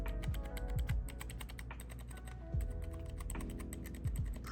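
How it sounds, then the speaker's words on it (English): Keycaps on a cheap thrift-store gaming keyboard rattle up and down in quick, irregular tapping, soft and close with a faint thud from the table, no talking. "pretty much all you're hearing is the keycap moving up and down"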